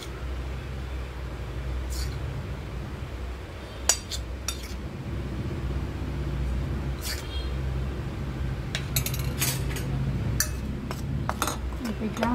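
A spoon stirs flour into malpua batter, giving sparse, scattered clinks against the bowl over a steady low kitchen rumble and hiss.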